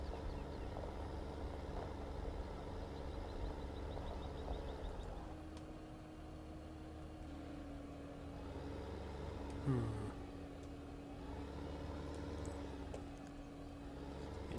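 A tractor towing a plough in Farming Simulator 15 rumbles continuously close by, its engine note rising and falling gently, with a brief clunk near the middle and no voices.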